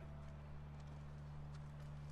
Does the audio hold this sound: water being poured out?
no